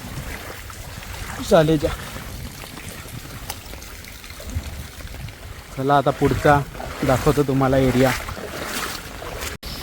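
Floodwater rushes through a village in a steady, broad wash that runs the whole time, with someone talking nearby over it.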